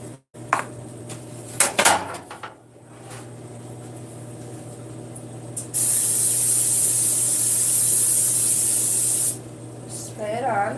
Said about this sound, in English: I have my cooking spray right here, and it is the Great Value canola cooking spray.